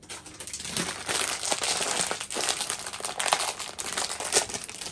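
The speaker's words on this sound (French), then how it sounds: "On va mélanger avec les herbes de Provence." Coarse ground pepper and herbes de Provence are mixed together, giving a dry, continuous crinkling and rustling that stays close and fairly loud throughout, with no talk.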